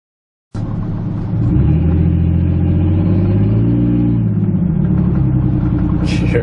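A GMC Sierra's 4.3L Vortec V6 fitted with a K&N cold air intake revs up steadily and holds a loud, sustained engine roar close by, with no talking over it.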